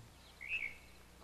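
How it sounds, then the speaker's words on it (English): A single faint bird chirp, brief and high-pitched, rises out of a quiet, still background. "the birds are chirping quietly"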